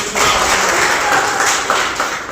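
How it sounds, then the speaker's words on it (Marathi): An audience applauds at a local academy event, a dense, loud wash of clapping lasting a couple of seconds with no voices standing out. "सर्वांनी टाळ्या वाजवून"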